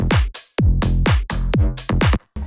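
A loud arpeggiated electronic synth bass line plays short repeating notes in a driving pattern, punchy and upfront with no voices.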